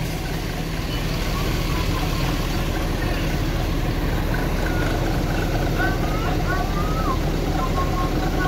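A Sumber Alam bus idles as it parks beside a Dewi Sri bus in a terminal's central parking area. A steady, loud, low engine rumble runs throughout, with voices faintly in the background.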